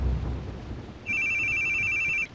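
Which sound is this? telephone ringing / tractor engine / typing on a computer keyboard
telephone ringing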